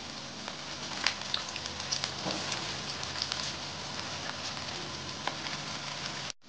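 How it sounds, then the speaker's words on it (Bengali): Onion pakora fritters frying in hot oil, a constant dense sizzle with scattered crackles and pops that holds steady throughout and stops abruptly at the end. "এভাবে আমি বাদবাকিগুলো ভেজে নেব।"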